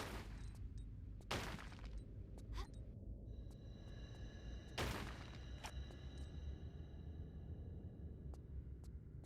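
Pistol shots from the video game Tomb Raider: The Last Revelation, set in the Temple of Isis, fire as a few separate sharp cracks with long pauses between them over a steady low background rumble.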